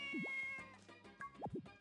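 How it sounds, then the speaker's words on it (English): Cat meowing in the farming video game Harvest Moon: Magical Melody, a few short rising and falling meows set against a soft game music backdrop. "That's a cat, though."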